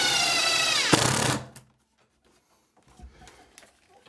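A screw is driven into a wall during a bedroom renovation. A close, loud drill-driver whir dips in pitch and cuts off after about a second and a half, followed by near silence and a few faint clicks and handling taps.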